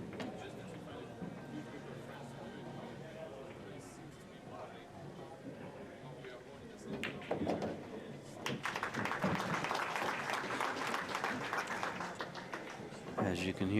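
A small crowd gathered around a pool table at a 10-ball tournament, the 2019 US Open, murmuring and shifting at a steady level, with a commentator talking over them and a rise in crowd noise toward the end.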